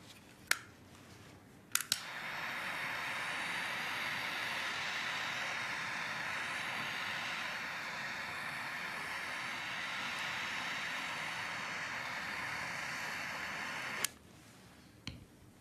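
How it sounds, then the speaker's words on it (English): A blowtorch roars steadily for about twelve seconds as it sets peanuts on fire on a watch glass held in a ring stand, starting and stopping with sharp clicks. "We set the peanuts on fire using a blowtorch."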